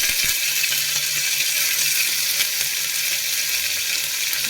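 Green chillies and curry leaves frying in hot oil for a moong dal sambar, a steady close hiss and crackle of sizzling with no talking.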